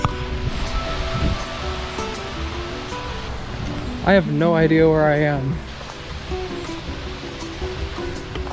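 Rushing water from a waterfall beside a house, heard as steady broadband noise through the whole stretch while a person on a solo hike talks briefly in the middle.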